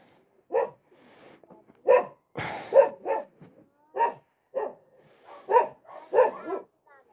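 A dog barks in short separate bursts, fairly close, with a brief rough scuffle partway through and quiet pauses between barks.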